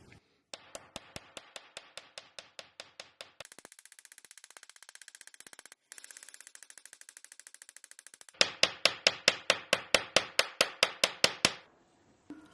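A long series of sharp metallic taps from a rounded punch struck on metal, steady and evenly spaced, shifting in tone partway through and ending in a louder, heavier run of strikes.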